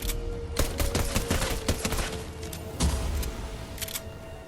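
Rapid gunfire bursts from the video game Fortnite play in a dense, loud volley of repeated shots over game noise, with no talking.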